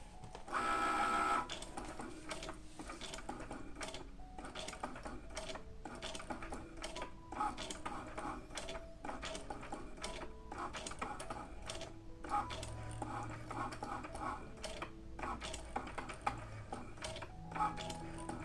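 A Cricut Explore cutting machine drawing with a pen: a steady, fairly quiet mechanical whir with irregular ticks and clicks as the carriage moves, lasting throughout with a brief louder whine at the start.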